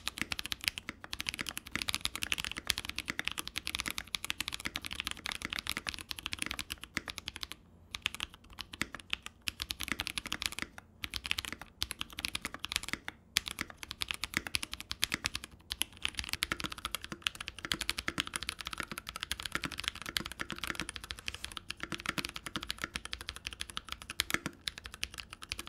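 Continuous close typing on a keyboard fitted with lubed Glorious Panda tactile switches, giving a dense, fast patter of keystrokes with brief pauses.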